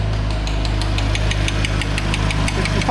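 A BMW M3 fitted with front mount intakes idles in a garage, its steady low rumble broken by a fast, regular knocking tick that repeats throughout, close and fairly loud, with no talking.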